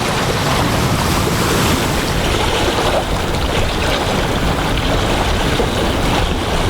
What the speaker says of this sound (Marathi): लाटा खट्याळपणे किनाऱ्यावर नाचत राहतात